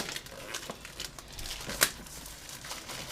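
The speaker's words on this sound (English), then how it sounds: "Get the wrapping off this." Plastic wrapping crinkles and tears as it is pulled off a folding knife, close and quiet, with one sharp rip partway through.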